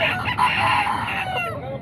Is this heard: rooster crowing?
yes